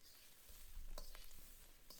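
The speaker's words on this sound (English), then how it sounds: "As the rice is frying," Day-old cooked rice frying in a pan gives a faint, steady sizzle, with a few soft scrapes of stirring to break up clumps.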